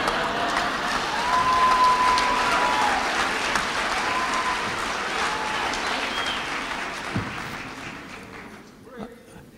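Audience applause and cheering fill a hall after a presentation of an early, large 2.5-pound mobile phone, a steady broadband wash that slowly fades toward the end, with a brief whistle-like tone partway through.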